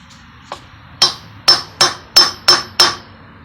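A tool-steel socket used as a blunt drift hammers a bearing race down into a Ford E350 Dana 60 full-floating rear axle hub: two light taps, then six loud, sharp metallic strikes at a steady rhythm, close up and alone.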